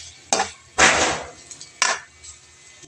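A utensil scrapes and clatters through shredded boiled food in a pan, mixed with soy sauce, in a few separate bursts: short metallic scrapes and one longer stir, close and fairly loud.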